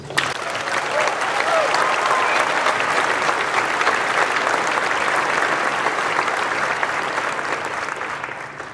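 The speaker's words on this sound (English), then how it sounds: "that deserves a round of applause" A large audience of friends and family applauds at a medical school white coat ceremony, loud sustained clapping that swells quickly, holds steady for several seconds and starts to thin toward the end.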